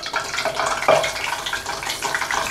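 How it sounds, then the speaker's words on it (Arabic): Chicken pieces, coated for crispy broast, fry in plenty of deep oil in a deep pan, giving a steady close sizzle with a brief louder crackle just before the one-second mark. "نجيب بقى طاسه غويطه نحط فيها زيت غزير وننزل بقى بالفراخ بتاعتنا"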